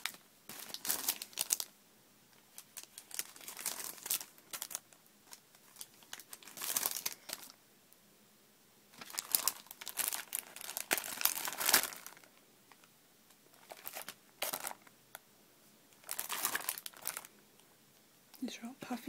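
A plastic pack of puffy stickers is crinkled and handled in repeated bursts of crisp rustling, separated by short quiet gaps, close and fairly soft.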